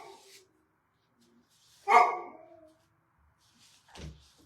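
A dog gives a couple of sharp barks separated by silence, the middle bark loud and close, the last shorter and deeper.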